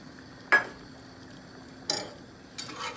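Grated Parmesan being stirred into a pasta dish, three brief scraping stirs of a utensil against the pot over a quiet background hum, close.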